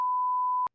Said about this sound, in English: you got to beep that. I'll beep that.